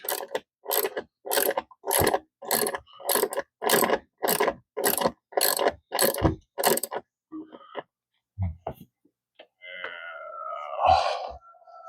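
A hand crank mechanism turned over and over in quick, even bursts, about a dozen ratcheting strokes, then a pause, a few scattered clunks and a louder whirring at the end.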